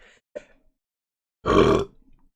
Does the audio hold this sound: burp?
yes